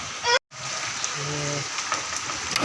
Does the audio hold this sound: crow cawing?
no